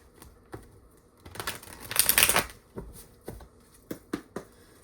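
A deck of tarot cards is shuffled by hand nearby, giving crisp riffling and a dense flurry of card flicks in the middle, with scattered sharp taps and slaps before and after.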